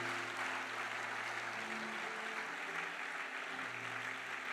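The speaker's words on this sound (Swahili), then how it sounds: "Mpe Bwana makofi yako mazuri kabisa." A church congregation at a worship service claps for the Lord, a dense, steady wash of applause sustained across the whole moment, fairly quiet and distant with no voices over it.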